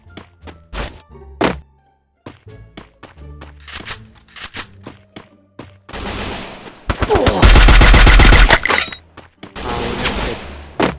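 Gunfire from the video game Free Fire: scattered single shots give way to dense automatic bursts and a loud, sustained barrage near the end, punchy and close, with a voice talking in the background.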